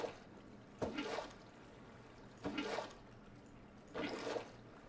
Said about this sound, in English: It will be annoying just to hear the water flowing